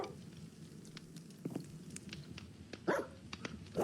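Dogs barking in the Minecraft video game, a few short distant barks scattered over a quiet background, with one louder bark cluster near the end.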